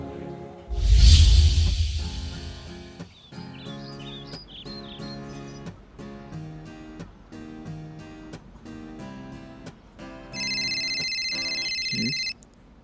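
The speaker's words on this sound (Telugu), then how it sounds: "ఒక్క నిమిషం, డాడీ ఫోన్ చేస్తున్నారు." A mobile phone ringtone plays a repeating electronic melody in a domestic scene, ringing steadily for several seconds with a brighter high tone near the end, fairly close and with no talk.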